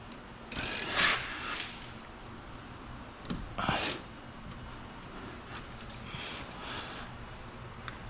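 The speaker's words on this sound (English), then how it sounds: "Now we're going to need that 14 millimeter. We're going to take this caliper off." A ratchet with a 14 mm socket removes the brake caliper bolts on a 2010 Hyundai Santa Fe disc brake, with two short bursts of metallic clicking at moderate volume separated by quiet workshop background.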